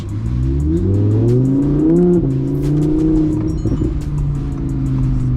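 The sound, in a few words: car accelerating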